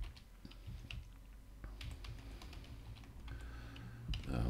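Password keys tapped out on a computer keyboard during an operating system install, a quiet run of scattered clicks over a low steady hum, with a louder clatter near the end.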